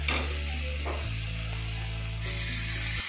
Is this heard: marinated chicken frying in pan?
yes